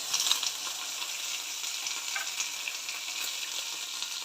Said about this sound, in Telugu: కొంచెం ఇప్పుడు ఆయిల్లో సాట్ చేసేసుకుందాం